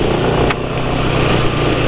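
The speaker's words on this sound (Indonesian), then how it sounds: "Jadi suara mesin masih lumayan kasar ya." A motorcycle engine idles roughly with corn oil used as its engine oil, a steady, close, continuous mechanical drone with an uneven texture and no talking.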